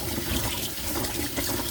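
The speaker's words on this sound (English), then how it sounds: "now I'm just gonna go ahead and pour the sauce in some boiling water and hope for the best" Sauce poured into a pot of boiling water and stirred at home, a close, steady liquid rush and bubbling that runs continuously without pause and with no talking.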